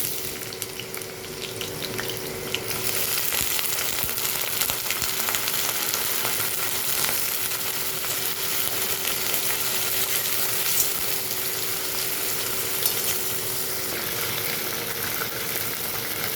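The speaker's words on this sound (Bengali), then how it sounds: "পেঁয়াজ আদা একসঙ্গে ভাজা হয়ে যাবে" Chopped onion with ginger paste and a pinch of sugar fries in a pan for chicken keema, giving a steady, close sizzle that swells after a quieter start and stays even to the end.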